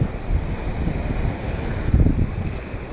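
Wind gusting and buffeting across the microphone on open water while fly fishing, a steady rough rumble that swells and dips, close and fairly loud with no talk.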